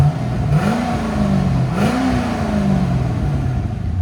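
Two quick throttle blips rise and fall over a steady idle as a 2009 Chevy Corvette Z51's 6.2L V8, fitted with a Valvetronic Designs exhaust, revs with its valves closed, subdued and close by.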